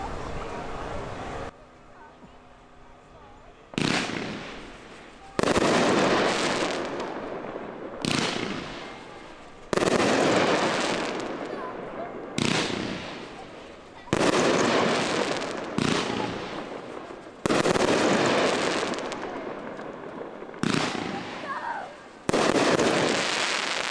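Consumer fireworks cake called Big Bomb Theory fired at an outdoor demo: a series of loud booming bursts several seconds apart, each followed by a crackling, fizzing tail that fades before the next shot, with a voice briefly heard.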